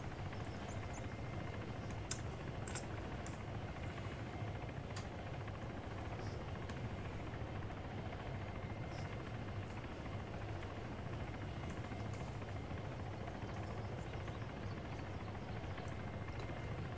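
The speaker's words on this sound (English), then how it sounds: "lifting those civvies out in that helo right now" Helicopter flying in a video game, a steady, moderately quiet rotor and engine wash with faint clicks and ticks on top, continuous with no talk.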